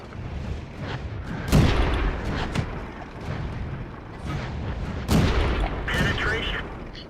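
Tank cannon shots in World of Tanks, two heavy booming blasts a few seconds apart amid continuous battle rumble and engine noise, with a voice talking over the action.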